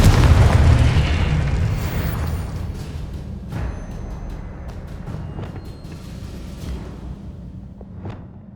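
Confringo blasting spell from Hogwarts Legacy, a heavy booming explosion that opens loud and decays into a long rumbling tail, followed by a few smaller pops and bursts, with no talking.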